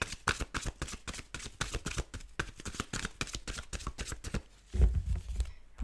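Rapid riffling and shuffling of large tarot cards, a dense run of crisp flicks and slaps close up, ending with a heavier thump.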